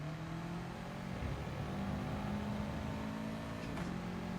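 A race car engine drones and revs in the racing game GT Sport during a wet open lobby, a steady mid-level engine tone with slowly shifting pitch, continuous and alone without talk.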